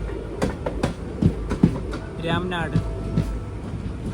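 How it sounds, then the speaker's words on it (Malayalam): Boat Mail Express sleeper from Rameswaram to Chennai pulls into Ramanathapuram station at dusk, a low rumble with scattered wheel clicks beneath a spoken word. "ട്രെയിൻ ഇപ്പോൾ രാമനാഥപുരം റെയിൽവേ സ്റ്റേഷനിലേക്ക് എത്തിയിരിക്കുകയാണ്"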